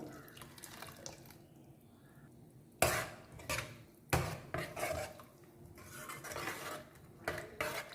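A spoon stirs churned buttermilk into a cooled ash gourd curry in a pot, giving soft sloshing and scraping punctuated by a few sharp metallic knocks and clinks against the vessel, close by, with no talk.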